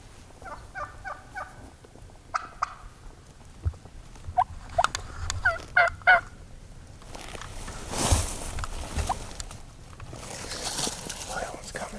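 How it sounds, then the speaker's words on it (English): Distant wild Merriam's turkey gobbles, a few short rattling bursts, on public land during a Nebraska hunt, with faint rustling and low whispered talk between hunters. "I just heard a gobble off to our left."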